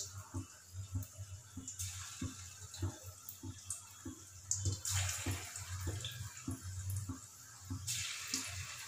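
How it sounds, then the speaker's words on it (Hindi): Vegetable Manchurian balls made with cabbage fry in medium-hot oil, giving a soft, steady sizzle and hiss with a faint repeating low bubbling throughout. The sizzle swells briefly in the middle. "तो अब हम इसमें हमारे जो मंचूरियन बॉल्स है वो डाल देते हैं। मंचूरियन बॉल को डालते टाइम गैस का फ्लेम हाई रखेंगे"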